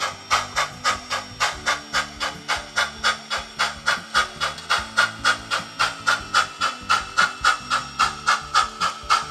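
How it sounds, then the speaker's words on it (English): Model railroad steam locomotive works up a grade, its chuffing exhaust puffing in a fast, steady rhythm of evenly spaced hissing beats over low mechanical hum, close and alone. "Now you'll hear the locomotive start working the grade."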